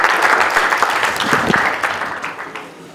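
Audience applause fills a poetry book signing ceremony, dense and steady clapping from a crowd that gradually thins and fades toward the end, with no voices over it.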